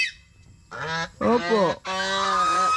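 A pet goose gives three loud, close, harsh honks in quick succession, each a nasal trumpeting call separated by short pauses.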